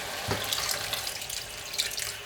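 Water runs and splashes into a pot of lamb mince and chickpea curry for a couple of seconds, a steady close pour with a brief low thump at the start.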